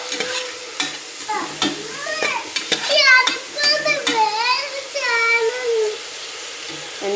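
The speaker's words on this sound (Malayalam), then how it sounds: "ഞാനിപ്പോൾ ഇഞ്ചിയും വെളുത്തുള്ളി പേസ്റ്റും കൂടെ ചേർത്ത് കൊടുത്തിട്ടുണ്ട് കേട്ടോ ഇനിയിപ്പോൾ നന്നായിട്ടൊന്ന് വഴലട്ടെ" Ginger garlic paste sautés in a pan for an egg biryani, a low sizzle broken by sharp spatula clicks and stirring scrapes, with a voice speaking over much of it.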